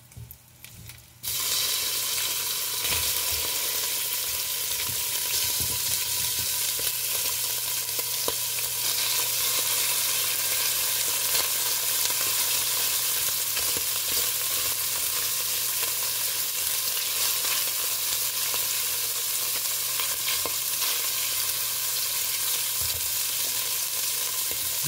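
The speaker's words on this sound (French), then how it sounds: "Maintenant que notre huile est réchauffée, on va venir mettre les morceaux à cuire." Chicken pieces frying in hot oil in a pan give a loud, steady sizzle that starts abruptly after a brief quiet moment and holds unbroken, with occasional faint pops and scrapes.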